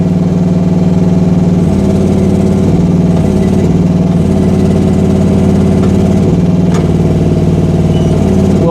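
Diesel engine of a new Rippa R10 mini excavator running steadily at idle, a loud continuous low throb with slight rhythmic variations in pitch, close by with no talking.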